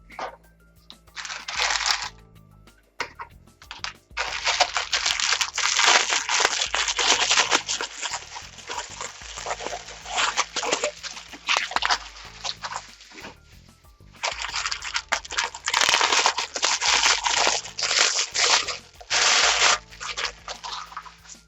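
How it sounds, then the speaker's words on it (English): Scissors cut through deco mesh for a ruffle wreath, with bursts of crinkly rustling and snipping separated by short pauses, close and clear, no talk. "And now we're going to just cut the mesh, right?"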